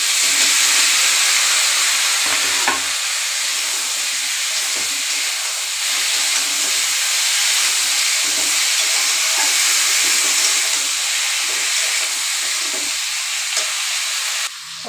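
Bottle gourd pieces hit a hot pan for a fish curry and sizzle with a loud, continuous, steady hiss that holds for the whole stretch, with no voices.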